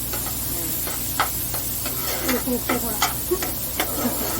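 Chicken filling for cheese samosas fries in a pan with a steady sizzling hiss, broken by scattered soft pops and stirring ticks, heard up close at a low, even level.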